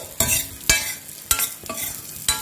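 Dry fruits frying in a hot pan while being stirred for dry fruit laddu, a steady close sizzle broken by four or five sharp scraping strokes of the spoon at a loose, uneven rhythm.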